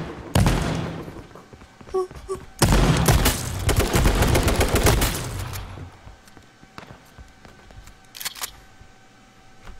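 Gunshots in H1Z1, a first crack followed by rapid recoiling bursts of fire, loud and close, then quieter scattered clicks and thuds.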